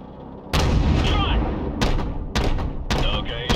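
AC-130 gunship cannon fire in Call of Duty 4, heavy booming shots landing in a few loud bursts with rumbling decay, while radio voices talk over the firing.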